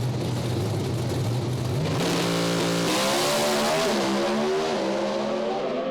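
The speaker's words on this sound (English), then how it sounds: "That is one of the quickest side-by-side passes I've ever seen in Pro Stock" Two Pro Stock drag racing cars roar side by side down the strip at Sydney Dragway, loud and continuous, their engine notes climbing through rapid gear shifts with rising and falling harmonic sweeps.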